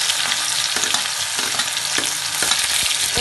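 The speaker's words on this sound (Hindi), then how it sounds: "लहसुन को सिर्फ हम 10 से 12 सेकंड के लिए ही भूनेंगे और उसके बाद हम इसके अंदर डाल देंगे प्याज" Chopped garlic sizzles loudly in hot oil in a pan, with occasional stirring clatter and a brief disturbance as onion is added, steady frying noise throughout and no talking.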